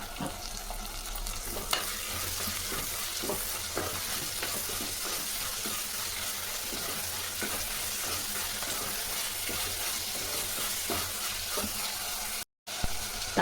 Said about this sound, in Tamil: தக்காளி வதங்கிறதுக்கு கொஞ்சம் உப்பு போட்டுக்கலாம்.